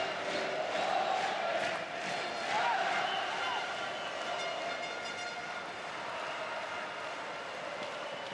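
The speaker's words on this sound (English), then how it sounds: "I believe they're chanting "Stand up if you love the Dutch."" Dutch supporters at a Germany vs Netherlands men's field hockey World Cup match in The Hague chant in unison from the far stands, a rhythmic, somewhat distant roar with swelling phrases.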